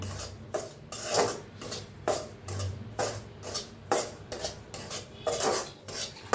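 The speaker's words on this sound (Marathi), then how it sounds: "तूप टाकून रवा छान असा भाजून घेऊया" Semolina roasting in ghee in a pan, stirred continuously with a utensil that scrapes the metal in a steady rhythm of repeated strokes, close and clear, with no voices.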